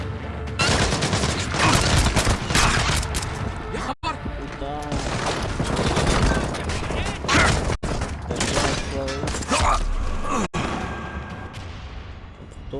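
Gunfire in the stealth shooter Splinter Cell Blacklist, dense bursts of game shots and impacts running almost continuously with brief gaps, loud and close, with a voice talking over parts of it.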